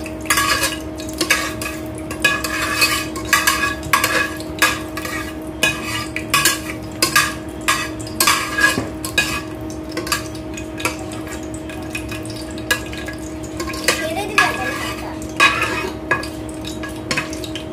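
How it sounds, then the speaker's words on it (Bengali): A spatula stirs chopped onions frying in a pan, giving steady repeated scrapes and clinks over a constant sizzle, close and fairly loud with no talking. "এটা একটু নাড়াতে থাকো একটু ভাজা ভাজা হলে"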